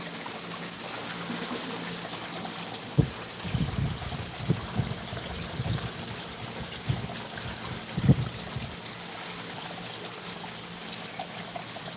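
A garden pond being filled overflows with trickling water, a continuous gentle wash broken by intermittent nearby splashes and gurgles, with no voices.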